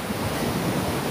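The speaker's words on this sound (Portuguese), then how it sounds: "ao barulho do mar" Sea waves break continuously on the beach at Praia Rasa in Búzios, a steady, loud wash of surf mixed with wind buffeting the microphone.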